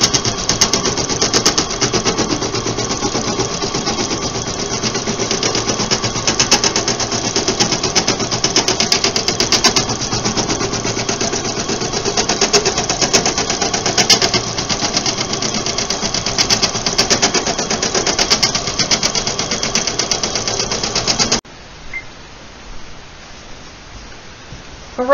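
A sewing machine stitches fabric for a zippered reading pillow, a steady loud mechanical whir with rapid needle clatter running continuously for about twenty seconds before stopping abruptly, leaving a quiet room.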